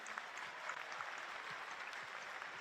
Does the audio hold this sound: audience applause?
yes